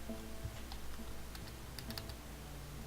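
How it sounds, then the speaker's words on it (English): Computer keyboard keys are typed while playing the roguelike game ADOM. Quiet, irregular clicks sit over a low background hum, with no voice. "And I'm hitting the wrong keys."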